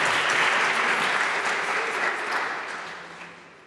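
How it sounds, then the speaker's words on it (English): An audience at a Brooklyn pride center dedication ceremony applauds with sustained, dense clapping that stays loud and then fades slowly toward the end. "So a big round of applause for all of our folks."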